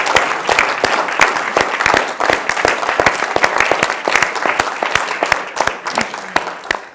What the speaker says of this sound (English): So can we applaud all of those who are behind the scenes?